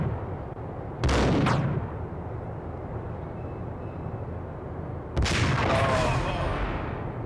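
Gunfire in the Max Payne video game lands as two loud bursts about four seconds apart, each a sharp crack trailing off into rumbling decay over a low background din.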